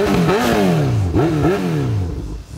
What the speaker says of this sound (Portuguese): Dá uma ligadinha aqui pra você ouvir o ronco